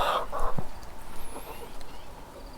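Backyard hens and a rooster cluck in short bursts near the start, then fainter clucks and a thin distant bird call sound over steady outdoor background noise.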